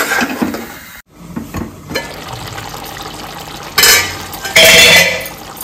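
A spoon clinks and scrapes in a pot of Goan ambade curry as salt is stirred in, with liquid sloshing and splashing in short bursts, close and fairly loud.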